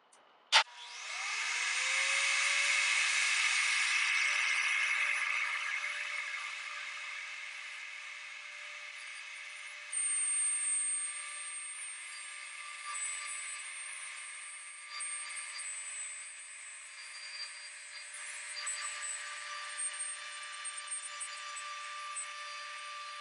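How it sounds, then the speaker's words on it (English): A wood router on a circle jig starts with a sharp click, spins up to a high steady whine, then cuts into the wood with a rougher, shifting hiss that surges and dips over about twenty seconds. "I like to start it and then put the router down to where I need it."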